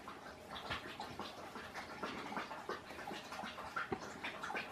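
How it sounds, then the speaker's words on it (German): A dog laps water from a bowl in the background, a steady run of soft wet splashy laps close by over a faint room hum. "So hört sich das an, wenn ein Hund trinkt."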